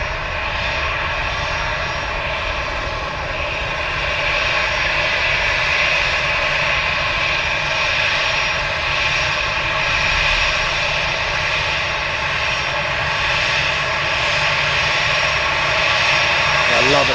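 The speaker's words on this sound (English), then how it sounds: "And Easyjet seems to be just departing now. Long way down the runway." easyJet airliner jet engines roaring steadily as the plane departs down the runway, a broad sustained rumble with a high whine that slowly swells, heard from a distance beneath someone talking.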